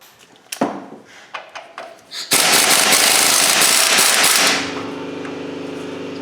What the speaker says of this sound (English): So we'll take this nut off first, make sure we've got the tension off it